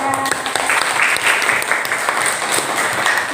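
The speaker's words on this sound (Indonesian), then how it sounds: "Beri tepuk tangan." A class of students claps for a group that has just presented, a dense patter of hands running steadily through the moment with some talk mixed in.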